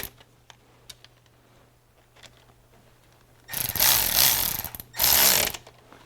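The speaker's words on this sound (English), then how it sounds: "We're gonna crisscross these bolts." Transmission oil pan bolts on a Dodge Durango being snugged in a crisscross pattern: faint scattered metallic ticks and clicks, then two loud bursts of harsh whirring from a ratchet or power tool, close up and with no talking.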